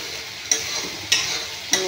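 Fried pointed gourd and potato pieces tossed into hot spiced oil, giving three sharp stirring clatters about half a second apart over a steady close sizzle.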